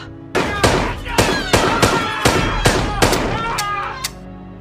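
Gunshots in a film, a rapid series of about ten loud, sharp shots fired one after another, with echoing tails and a background hum.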